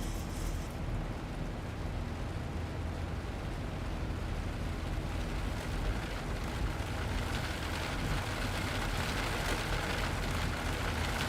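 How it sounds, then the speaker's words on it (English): Rain pelting an airliner in the Zibo Mod v3.55 flight simulator during a bad-weather test flight, a steady, unbroken hiss of heavy rainfall that fills the whole stretch without any talk. "Listen to that rain."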